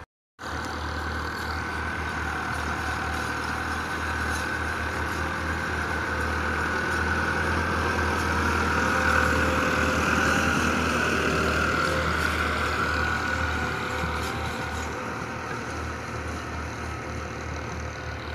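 A 2018 New Holland 385 tractor with a plough attachment on open farmland runs at a steady idle, its low engine drone continuous and fairly loud at close range with no voices over it.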